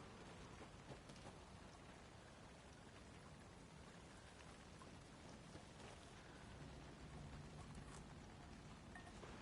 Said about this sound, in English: just the sound of the rain falling